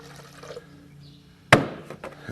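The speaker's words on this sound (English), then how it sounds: "So again, I'm gonna put just a little water this time." A little water poured into a blender for homemade vegetable-garden bug spray: a quiet room hum, then one short, bright splash of liquid hitting the container, close and brief.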